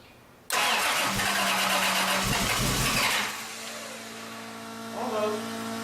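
A Toyota 2JZ engine cranks and tries to start, bursting in loudly and grinding for about three seconds, then settling into a lower, rougher hum with a brief rise near the end.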